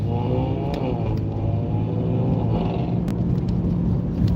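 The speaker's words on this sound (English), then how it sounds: "Car does not sound healthy." An Audi A4 engine rumbles as if it has missed third gear, a steady low drone with shifting pitch and a few faint clicks over it, heard close and continuous.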